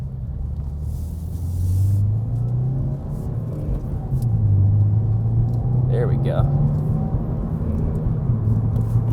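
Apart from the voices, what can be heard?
Subaru WRX engine and exhaust while driving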